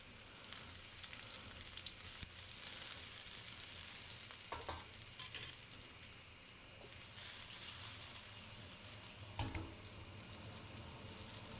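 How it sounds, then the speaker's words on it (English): Onions fry in a stir-fry pan, giving a soft, continuous sizzle like light rain, with a few brief stirring scrapes and clacks. "We're gonna cook my onions first,"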